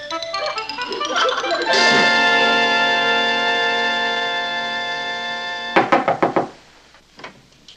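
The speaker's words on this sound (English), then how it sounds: "Patty, will you open this door?" Sustained ringing tones hold for several seconds before a quick series of sharp knocks on a door, five or six raps close together in a sitcom home interior, then a fainter knock or two after.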